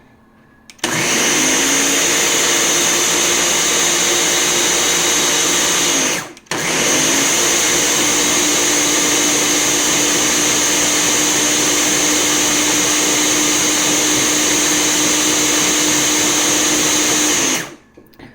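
A Ninja Bullet personal blender pureeing baby food whirs loudly and steadily, pausing briefly once before running again for a long stretch, then cutting off.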